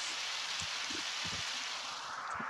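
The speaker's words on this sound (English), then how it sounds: "Sound of muffled rain on the cave top fills you with determination." Muffled rain on a cave roof in the video game Undertale, a steady soft hiss of falling water with faint low knocks and drips, heard alone without voices.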